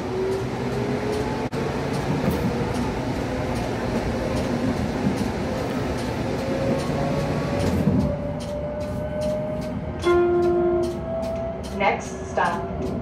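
Hudson-Bergen Light Rail train rolling along on the Bayonne express service, a steady rumble and rising motor hum inside the car, with a recorded announcement voice over the noise.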